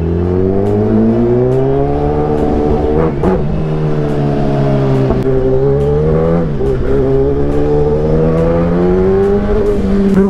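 A Kawasaki ZX-10R motorcycle revs and accelerates hard on the road, its engine note climbing and dipping through steady gear changes, loud and close throughout with no talk.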